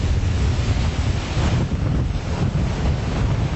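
Roaring wind of Super Typhoon Lawin sweeping through Cagayan, a loud, steady, dense rush with heavy low rumble and gusting buffeting against the microphone, no voices.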